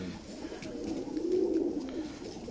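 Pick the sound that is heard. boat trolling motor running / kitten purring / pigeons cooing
pigeons cooing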